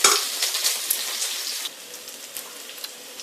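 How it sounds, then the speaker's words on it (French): Onion mixture sautéing in a pan for an Indian tamarind vegetable sauce, a steady close crackling sizzle with occasional utensil scrapes, softening slightly partway through. "on va laisser bien revenir ce mélange"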